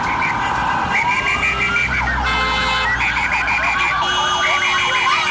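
An ambulance siren wails on a street, its rising and falling electronic tones repeating steadily and loudly over continuous traffic noise for the whole stretch.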